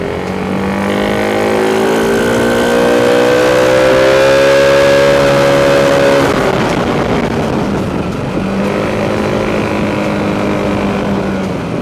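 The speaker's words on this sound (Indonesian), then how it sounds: "Ya overall kayak standar lah karena knalpotnya standar." A Yamaha Lexi 155 scooter with a stock exhaust is ridden along a road and up a hill at half throttle. Its loud, close engine drone rises steadily in pitch, then drops and settles into a steady hum.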